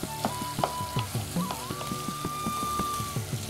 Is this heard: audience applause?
no